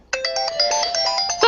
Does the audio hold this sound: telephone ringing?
yes